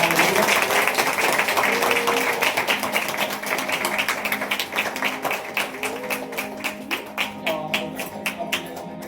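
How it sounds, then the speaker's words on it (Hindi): A church congregation at a Sunday service applauds loudly in welcome, a dense roar of many hands that gradually thins into distinct, rhythmic claps toward the end. "जोर से ताली बजा के स्वागत करें"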